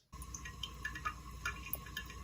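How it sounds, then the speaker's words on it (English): Steady trickle of water running in a toilet from a valve leak, with faint drips and ticks, continuous and fairly quiet, like water flowing into a bowl. "That's not just the sound of your toilet running"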